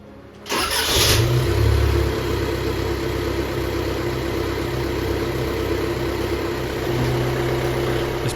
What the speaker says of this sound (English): start the Wrangler, and see how the vibrations are